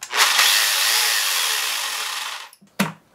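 A cheap Amazon-bought chainsaw runs loud and close with a steady high-pitched buzz for over two seconds, then cuts off, followed by a couple of short clunks and handling knocks.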